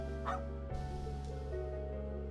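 A dog barks in the video game Trails into Reverie: a brief yip near the start, then quieter whimpering sounds over steady background music.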